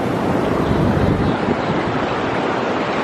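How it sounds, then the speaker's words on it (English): Ocean waves break steadily on Daytona Beach in a continuous roaring wash, mixed with heavy wind buffeting the microphone. Nobody speaks. "Are you scared to get taken down by the waves?"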